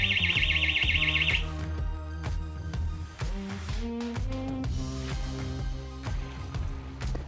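A Rotec security alarm sounds in a rapid pulsing electronic warble for about a second and a half, loud and up close. Tonal music-like notes with a low rumble fill the rest.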